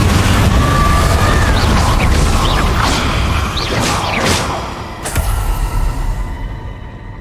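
A fire spell cast in Hogwarts Legacy during a fight with Inferi, heard as loud whooshing bursts and crackling impacts in a dense, continuous battle din, with a sharp crash late in the clip.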